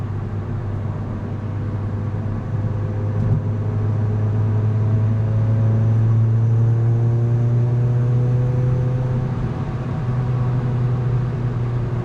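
A Mazda NC Miata fitted with a Fab9 N1 tune, its engine droning steadily and loudly with a slowly shifting, rising tone throughout.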